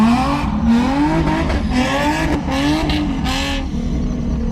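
A car drifting on grippy tires, its engine roaring steadily close by while the tires squeal in rising and falling wails throughout.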